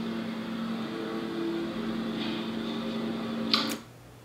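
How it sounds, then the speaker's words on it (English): A lawnmower engine drones steadily in the background, a constant mid-level hum with a faint higher whine that cuts off sharply near the end. "That's the lawnmower."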